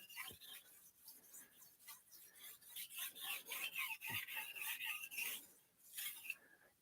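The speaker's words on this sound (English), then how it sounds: "do a lesser amount of strokes on each side to kind of just even it out before we move to our higher grit stone" Knife sharpening on a whetstone, a rapid series of quiet gritty scraping strokes, close up and fairly even in rhythm, with a brief pause near the end.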